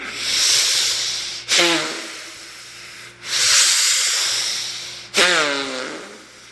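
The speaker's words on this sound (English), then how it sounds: "you have to breathe as long, as deep as possible, both from the belly and the chest" Three long, deep breaths drawn from the belly and chest, each a loud noisy inhale-exhale with a rushing hiss, separated by brief sharp gasps; close and steady.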